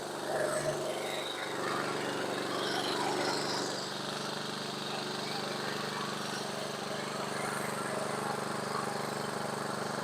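A Briggs and Stratton engine on a Toro Recycler lawn mower runs at a steady, droning idle throughout, close and fairly loud, with a voice talking briefly over it.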